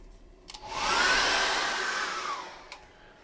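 A hair dryer dries wet acrylic paint on a landscape canvas. It switches on after a couple of clicks, blows with a close, steady whooshing hiss for under two seconds, then winds down and cuts off, followed by another click.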